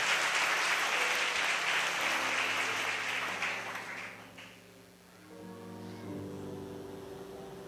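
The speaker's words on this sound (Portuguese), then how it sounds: "Então aplaude a poderosa palavra de Deus aqui" A church congregation claps for about four seconds, dense and fairly loud, then the applause fades out and a voice and music come in behind it.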